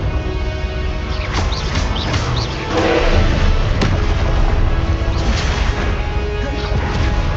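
A Confringo fire blast spell in Hogwarts Legacy sets off a steady run of loud booms and crashing impacts, with layered blasts rumbling on throughout.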